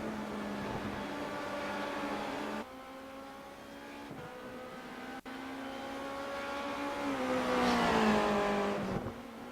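A race car in the iRacing video game at Silverstone accelerates down the straight, its engine tone climbing through gear changes with brief dips between shifts, rising to a loud high-revving peak near the end, with no talk.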